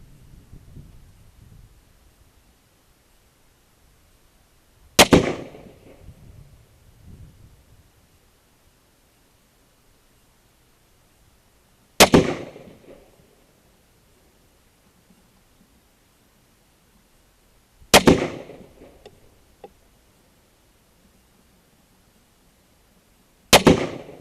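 A Kel-Tec RFB rifle fires single shots during accuracy testing, four sharp outdoor reports spaced several seconds apart, each trailing off in a short echo, with near silence between them.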